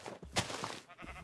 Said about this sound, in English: Oh no, there's enough sheep.